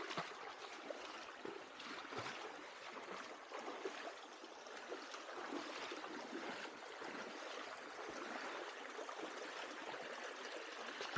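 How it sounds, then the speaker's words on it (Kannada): A strong stream rushing through Western Ghats jungle after heavy monsoon rain, a dense, steady roar of flowing water heard close up and continuing without a break, with no voices. "ನೋಡಿ ಎಷ್ಟು ಜೋರಾಗಿ ನೀರು ಬರ್ತಾ ಇದೆ"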